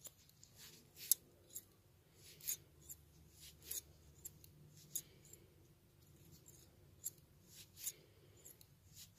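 Fiberfill is pushed into a crocheted amigurumi foot with scissors, producing soft rustling and scratchy rubbing with irregular light taps and clicks, close and quiet throughout.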